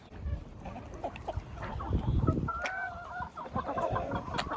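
Several laying hens cluck and chatter close by as they crowd around clean water, busy overlapping calls with a few louder squawks, over light shuffling and rustling.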